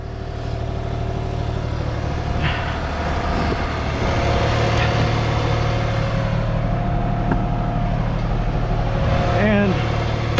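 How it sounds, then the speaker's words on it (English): John Deere 3046r cab tractor runs with its PTO engaged driving a Fransgard V-3507 forestry winch, a steady low engine hum and whine throughout, with a person talking over it. "So let's go engage the PTO."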